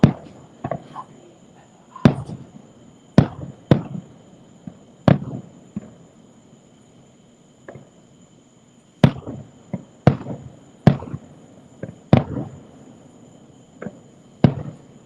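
Fireworks bang in a rapid, irregular barrage of sharp loud bursts, some echoing, the grand finale of Disney World's Happily Ever After show, with a steady high hum running beneath and no talking.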